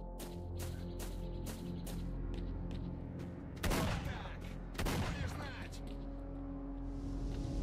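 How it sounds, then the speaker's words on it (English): Gunfire in the shooter game S.T.A.L.K.E.R.: Shadow of Chernobyl, with two loud bursts of shots in the middle standing out over a steady droning game ambience and faint clicking noises. "Who's shooting at me?"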